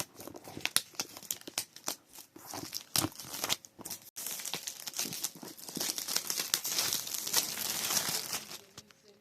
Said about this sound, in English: Oh, that sweet, that satisfaction of peeling.